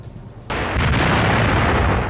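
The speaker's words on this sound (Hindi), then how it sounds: "रूस ने होविजर तोपों से यूक्रेनी ठिकानों पर बारूदी बौछार की।" D-20 howitzer artillery firing at Ukrainian positions: one abrupt, loud blast about half a second in, followed by a sustained, dense roar and rumble that fills the rest of the clip, with no voices.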